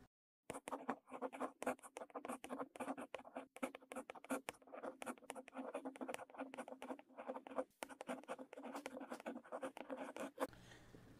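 Pen writing by hand on paper while working a fractions problem, a close, quiet run of short scratchy strokes in quick irregular bursts, with brief pauses between words and a soft final scrape.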